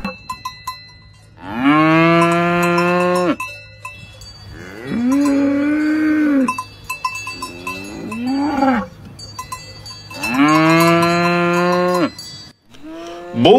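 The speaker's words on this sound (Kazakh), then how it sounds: "Бұл сиыр." A cow moos in several long, loud calls, some deep and drawn out, others higher and wavering, separated by short pauses with faint background noise between them.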